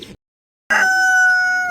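A Golden crested fancy chicken rooster crows once, loud and close, a long drawn-out call after a brief silence.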